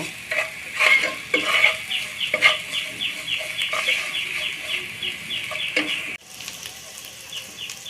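Chana dal fries in a pan with a loud, close sizzle while a spatula scrapes and stirs in quick, rhythmic strokes; the stirring stops near the end, leaving a quieter hiss.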